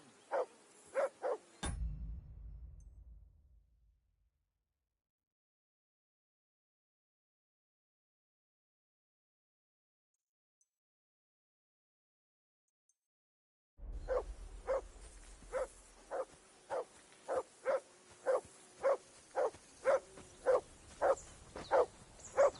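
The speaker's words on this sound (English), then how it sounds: "Whistle at that mutt of yours to stop barking!" A dog barking in the medieval video game Kingdom Come: Deliverance II, sharp repeated barks in a quick burst, then after a long silence a steady run of rhythmic barks continuing to the end.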